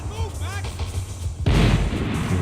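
Long-range gunfire in Max Payne 3 cuts in abruptly after a short stretch of talking and tonal background sounds, then continues as a sustained, dense burst of loud, sharp cracks.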